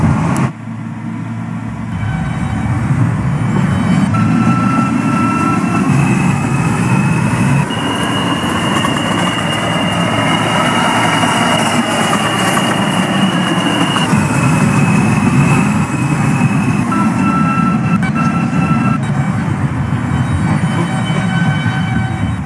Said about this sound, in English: This is a Ditmars Boulevard bound N train.